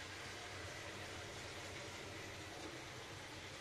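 Demirdöküm Nepto combi boiler running with a rough, rattling fan motor fault, a steady broadband mechanical whir and clatter holding constant throughout with no talk.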